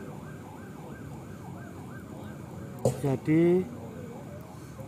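An ambulance siren passes by outdoors, its wailing rises and falls steadily through the first half over a constant background hum before fading, with a person speaking briefly near the end.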